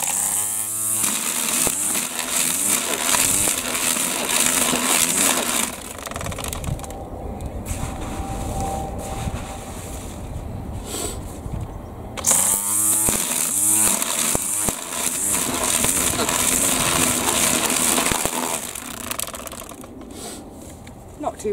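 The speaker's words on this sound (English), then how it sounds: "Now, I haven't trimmed leaves with this new strimmer yet." A new electric strimmer trims leaves in a kitchen garden with a steady buzzing whine, growing louder and rougher as it chews through foliage in two long bursts around a quieter stretch.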